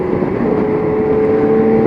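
A motorcycle engine hums steadily beneath rushing wind while riding, a loud, even drone with a rising tonal whine through the short stretch.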